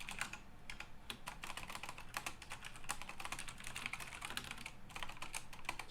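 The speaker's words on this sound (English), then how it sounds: "Not a great typing day." Rapid, uneven keystrokes clatter on a computer keyboard, close and fairly quiet, with short pauses between bursts of typing.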